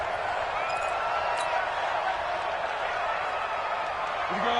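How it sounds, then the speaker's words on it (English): Clapping rises from the sidelines at a football game, blending into a steady, loud wash of stadium crowd noise that runs the whole time. "That's why you hear that clapping on the sidelines, right?"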